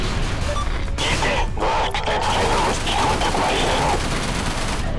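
Missile launches and explosions in the space shooter game Everspace, a dense run of sharp bursts and blasts that holds loud and steady for the whole stretch.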